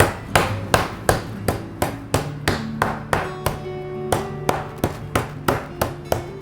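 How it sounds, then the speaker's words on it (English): A meat mallet pounds a pork loin under plastic wrap in about twenty sharp, evenly spaced whacks, close and loud, each ringing briefly over a light background hum. "And I have a meat mallet here."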